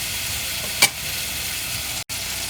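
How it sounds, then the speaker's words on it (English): Tomatoes softening in a pan for tiffin sambar, stirred continuously: a steady close sizzle with a brief louder scrape near the start and a momentary drop-out, no voices. "So let's just mix this till you feel the tomatoes go soft."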